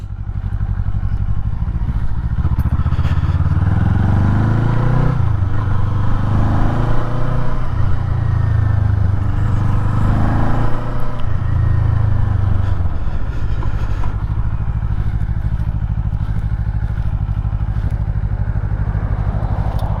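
A Kawasaki Eliminator cruiser motorcycle rides along an Idaho road, its engine a steady, loud, close drone with wind rush, rising and falling gently in pitch as the throttle shifts.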